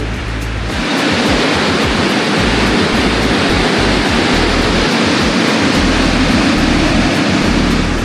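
A loud, constant roar of rushing water from a waterfall between Padang and Bukittinggi fills the whole clip, close and unbroken, with no voices.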